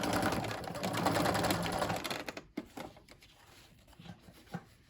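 A sewing machine runs steadily through fabric while stitching a face mask, then stops after about two and a half seconds, leaving a few soft handling clicks and rustles.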